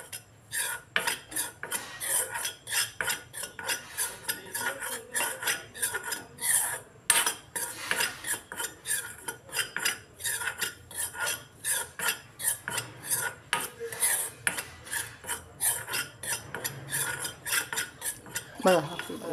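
Gram flour roasting in ghee, stirred with a metal spoon against the pan in a steady rhythm of scraping strokes, close and continuous, with no talking.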